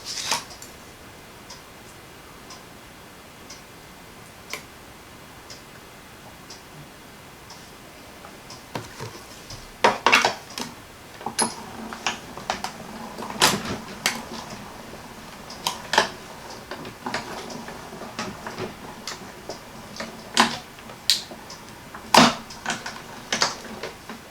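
A manual die cut machine cranking paper through its rollers gives a long run of irregular ticks and clicks, quiet at first, then louder sharp ratchety snaps spaced unevenly, close by, with no talking.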